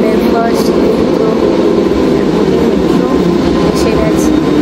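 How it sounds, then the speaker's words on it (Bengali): Loud, steady rumble of a London Underground train approaching, a continuous roar of wheels on track filling the space with only faint higher clicks on top. "কি জোরে মেট্রোর আওয়াজ হচ্ছে দেখুন"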